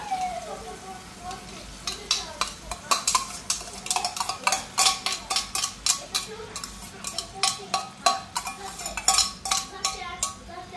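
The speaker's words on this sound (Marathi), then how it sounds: "तर बघा छान अशी जी डाळ आहे तर ती मी यामध्ये टाकून घेतलेली आहे" As dal goes into a pot of drumstick-leaf bhaji, a utensil taps and clinks rhythmically against the metal pot many times in a row, steady and close, with a faint background hum.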